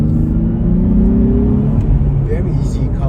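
Engine note of a 2022 Nissan Z building steadily as the car accelerates out of a roundabout, a continuous rumbling drone close by with road noise beneath and no talk over it.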